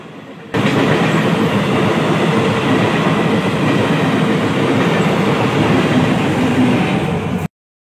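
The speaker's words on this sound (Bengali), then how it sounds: "দেখতে পাচ্ছ ট্রেন যাচ্ছে।" A train passes close by at a busy crossing spot during Durga Puja, a loud steady rumble of wagons and rail clatter that sets in after half a second and runs unbroken for about seven seconds before stopping abruptly.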